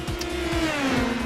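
Open-wheel race car engines scream at Autodromo Nazionale Monza in iRacing, one loud engine holding a steady high whine while others sweep past in quick doppler bursts.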